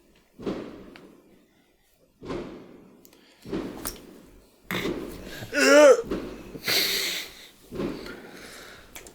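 Several muffled thuds and bangs at irregular intervals, like distant fireworks going off outside, with a crackling burst near the end.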